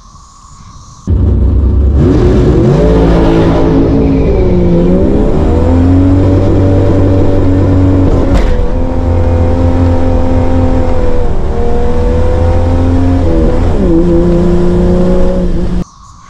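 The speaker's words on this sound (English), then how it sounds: "So I come off the starting line and immediately it breaks traction." A Jeep Cherokee with a tuned 4.0 engine launches hard off a starting line, the engine roaring loud and close as it revs and climbs through the rpm range, easing and rising again before cutting off.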